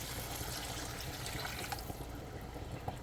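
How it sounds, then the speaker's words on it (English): Water pours steadily into a cooking pot of Jamaican steamed fish with okra, a continuous splashing rush at moderate volume with a couple of small clunks near the end. "I'm gonna add some water"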